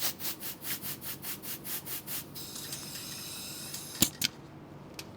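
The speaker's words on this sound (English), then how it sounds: "put a little bit of air through it and just blow it out" Compressed air blowing through a boat trailer brake line, heard as a string of about ten short rhythmic puffs, then a steadier hiss and a couple of sharp blasts near the end.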